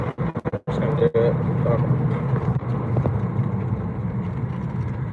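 A car passes on a road beside a creek, its engine and tire noise swelling and holding steady for several seconds after a few sharp knocks at the start.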